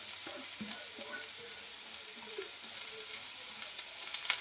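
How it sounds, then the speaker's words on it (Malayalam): Onions and green chilies sauté with mustard seeds in a pan, a steady soft sizzle with scattered stirring scrapes and small pops, fairly close and alone without voices. "നല്ലോണം ഒന്ന് വഴറ്റിയെടുക്കാം"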